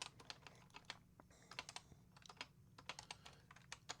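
A faulty computer keyboard is typed on during a livestream, giving a rapid, uneven run of light key clicks close to the mic. The typing is fairly quiet and heard alone, with no speech.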